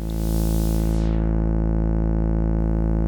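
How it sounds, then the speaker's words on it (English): Neuzeit Instruments WARP synthesizer with an oscillator acting as a filtered white noise generator: a loud hiss layered over a steady harmonic drone, its bright top quickly filtered away to leave the sustained tone. "filtered white noise, where an oscillator simply becomes a noise generator"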